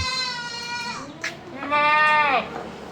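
Goats bleat on a goat fattening farm, two clear, close, wavering calls separated by a short pause, standing out over faint farmyard background.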